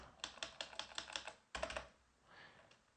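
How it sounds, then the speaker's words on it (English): Fingers type a quick run of key clicks on a computer keyboard, pause, then tap a few more keys, close and fairly quiet, entering a terminal command for a VPN setup. "now I'm going to go ahead and type in vim"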